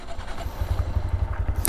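A stock 2022 Honda Grom motorcycle engine starts, catching in a quick low pulsing patter that settles into a soft, close putter.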